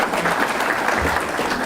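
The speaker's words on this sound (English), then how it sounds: "I request everyone to give a big round of applause to the EMARC Urban Design Batch 2022." A graduation ceremony audience applauds an urban design graduating batch, steady dense clapping filling the short stretch evenly.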